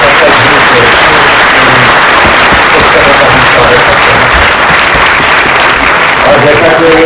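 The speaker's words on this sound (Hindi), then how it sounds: "एक बार बहुत जोरदार तालियां हो जाए." Loud, sustained audience applause fills the hall at a book launch event for LK Advani's books, a dense steady roar of many hands clapping that continues without a break.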